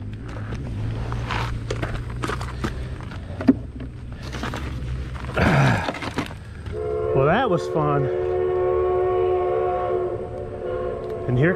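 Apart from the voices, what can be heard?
train passing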